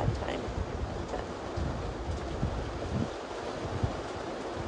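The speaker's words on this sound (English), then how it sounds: "It is still windy." Steady, broadband wind roar buffeting the microphone throughout, with low rumbling gusts and no voices.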